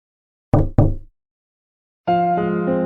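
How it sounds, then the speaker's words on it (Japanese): Two sharp, loud knocks in quick succession, then a pause before a sustained tonal sound begins. "高いノックの音が響いた。"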